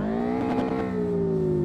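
A Subaru BRZ's boxer engine revs in the driving game DRIFT21, a steady, buzzy, close-up drone whose pitch briefly rises and then slowly falls, with no voices over it.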